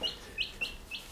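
A small chick peeps four times in quick, evenly spaced high chirps, close and clear with nothing else behind it.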